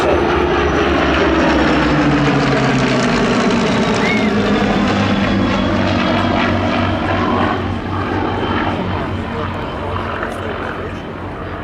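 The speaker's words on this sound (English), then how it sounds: "This aircraft, AB910, was purchased by Group Captain Alan Wheeler for air racing" Supermarine Spitfire of the Battle of Britain Memorial Flight roars past at the Midlands Air Festival, its loud piston engine drone sweeping in pitch and slowly fading, while a commentator talks over it on the public address.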